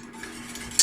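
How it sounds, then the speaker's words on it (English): A coconut yogurt mixture being whisked with a powder, giving a soft, steady scraping stir with a sharper clink near the end, close and quiet. "I'm just gonna whisk it all up until the powder is uniform"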